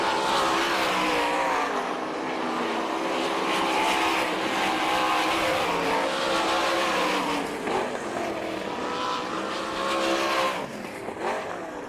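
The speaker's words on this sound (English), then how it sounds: "Mike Wagner's coming down with a checkered flag, a half a lap ahead of everybody." Sprint cars race around a dirt oval at the All Star Circuit of Champions Winter Nationals in Gibsonton, Florida, giving a dense, continuous high-revving engine roar that swells and fades slightly as cars pass.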